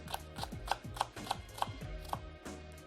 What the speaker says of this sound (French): On va donner des petits coups de couteau le long, dessous, encore dessous